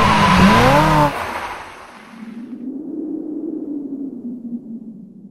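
An intro jingle for a review of the Ford Maverick hybrid pickup opens with a loud burst of tonal sound effects, then drops into a low, sustained rumbling drone that holds to the end. No one speaks over it.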